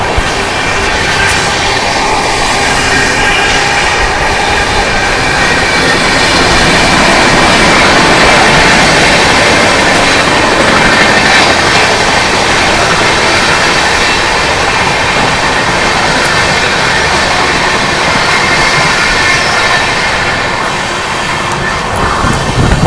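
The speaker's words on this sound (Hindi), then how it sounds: "भाई यहाँ पे तमिलनाडु एक्सप्रेस के साथ अपना पैरेलल रन यहाँ पे हो रहा है फ्लैट 130 पर" An AC Superfast Express runs flat out at about 130 alongside the Tamil Nadu Express, giving a steady, loud, dense roar of wheels and rushing air that holds without a break for over twenty seconds.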